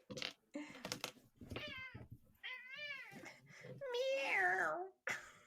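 A house cat meows repeatedly, several drawn-out rising and falling cries close by, with a stretch of talking at the start.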